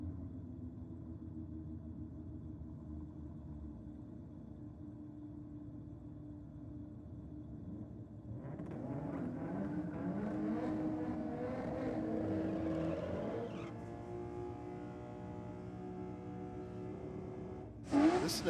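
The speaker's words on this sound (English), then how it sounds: "Listen to that Cressida sitting in the burnout" Toyota Cressida doing a burnout at a drag strip during a Ford vs Holden theme night, a distant engine drone that rises into a louder, harsher revving roar partway through and holds steady.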